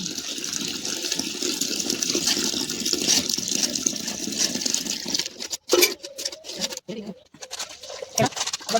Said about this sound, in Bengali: এবারে দিয়ে দেব গরম জল।